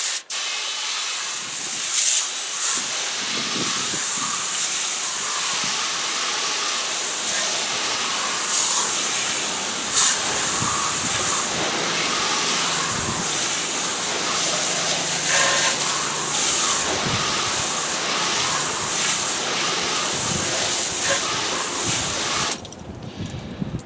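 A water sprayer rinses cleaner off a car tire during auto detailing, giving a loud, continuous hissing spray with slight surges that runs for over twenty seconds before cutting off abruptly.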